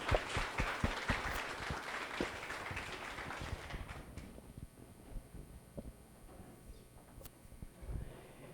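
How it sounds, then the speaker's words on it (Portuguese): Audience applause at a talk-show event, starting with a burst of close, crisp hand claps that thins into scattered, fading clapping over several seconds. "Salva de palmas para eles, gente."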